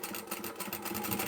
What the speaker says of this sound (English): so I'll stitch over that again